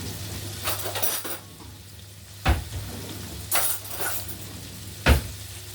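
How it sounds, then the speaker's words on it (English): Meat for a steak and oyster pie browning in a frying pan, a steady sizzle broken by three or four louder scraping and stirring bursts, with occasional clatter of the pan, no voices. "Now at the moment you just want it to, you're just browning the meat."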